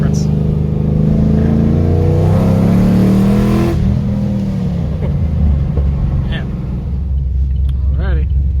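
A 416 stroker Camaro engine rumbles and hums loudly with a low, droning tone during a short drive, and people talk over it.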